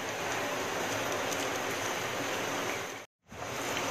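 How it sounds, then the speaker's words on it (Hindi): French fries tipped into a pan of chilli sauce give a steady, loud sizzling hiss that fills the clip, cutting out briefly near the end before resuming. "अब मैं इसमें फ्रेंच फ्राइज डाल दूँगी"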